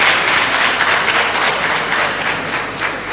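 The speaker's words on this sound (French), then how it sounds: "Vous acclamez pour le président" Dense, sustained applause from a crowd cheering for the president at an official gathering in the Collines department, a loud continuous patter of many hands clapping with no pauses.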